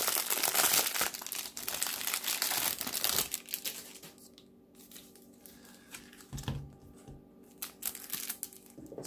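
A Yu-Gi-Oh! promo card pack wrapper from a 2019 Gold Sarcophagus tin is torn open, with loud close crinkling and tearing at first, then quieter rustling of foil and cards, no voices.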